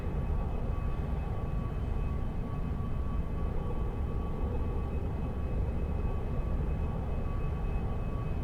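The engine of an F-4 Phantom jet in the X-Plane 11 flight simulator gives a steady, dense low roar with a faint thin tone on top, constant and unbroken for about eight seconds, with no talking.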